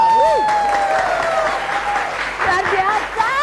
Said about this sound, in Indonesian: Coba dong, tepuk tangannya buat Anda semua di sini,